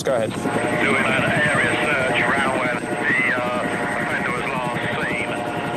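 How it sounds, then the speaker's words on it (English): A police helicopter flies overhead during an area search for an offender, its loud, steady rotor thrum filling the air while someone speaks over it in radio-style talk. "I think that's a helicopter."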